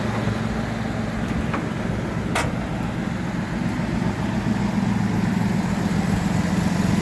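An old Chrysler car engine idles steadily and smoothly nearby, a constant low rumble with no voices over it.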